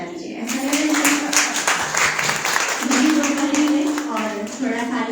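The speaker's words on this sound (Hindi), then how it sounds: "एक बार आप खुद के लिए तालियां बजा लीजिए" Audience applause at a spring poetry festival in Bhopal, steady clapping from the crowd running throughout with a voice speaking over it.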